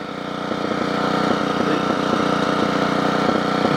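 Generac 8838-0 generator engine running steadily at a constant drone, with irregular popping bursts breaking through the rhythmic engine note throughout, close and fairly loud.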